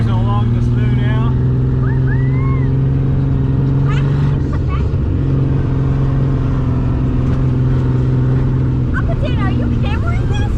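A Ford Bronco II drives through snow with a loud, constant engine drone heard from inside. Voices talk and shout over it throughout.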